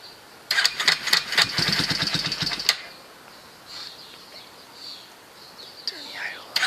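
A Yamaha YFM350 Warrior ATV engine cranks with rapid, uneven pulses for about two seconds, then cuts out abruptly, leaving quiet outdoor background with faint chirps; it sounds close and moderately loud.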